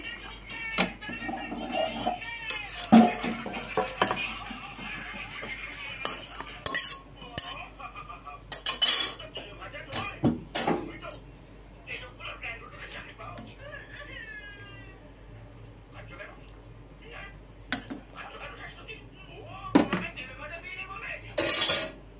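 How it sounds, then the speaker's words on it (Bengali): Gas stove switched off and a pot of pepe fish curry lifted from the burner, with scattered metallic clanks, knocks and utensil clinks near at hand, interspersed with someone talking. "এবার আমি নিভিয়ে দিচ্ছি গ্যাস, দিয়ে আমি নামিয়ে দিচ্ছি।"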